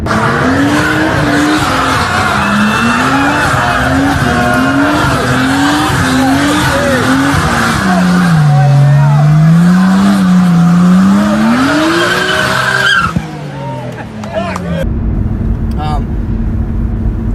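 Loud Nissan Skyline R32 RB engines roar with a wavering, revving pitch and tires squealing throughout, ending abruptly into quieter engine rumble near the end.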